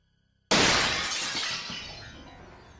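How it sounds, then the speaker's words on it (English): Window glass shatters in one sudden loud crash after a moment of near silence, the breaking shards ringing on and slowly fading over a couple of seconds. "I woke up to the sound of my window shattering"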